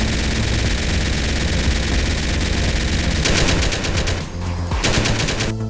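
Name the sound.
gunfire with recoil mod in video game GTA San Andreas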